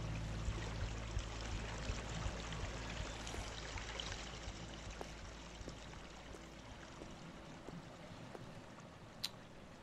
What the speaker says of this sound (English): The bubbling water.